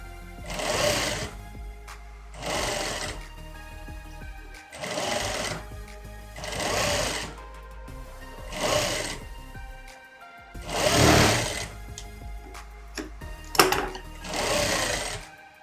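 Domestic sewing machine stitching a skirt seam, running in repeated bursts of about a second each with short pauses between, close and steady, no talking.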